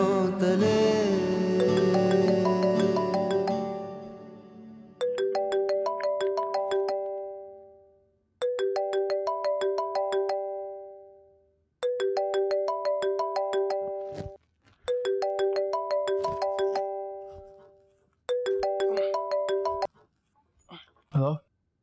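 A phone ringtone plays a repeating melodic chime in five or six bursts separated by short gaps, following a fading song at the start; no talking over the ringing.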